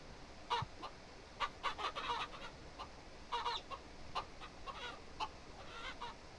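Chickens in the farming video game Ranch Simulator cluck in short, scattered bursts, fairly faint and close together, with no talk over them.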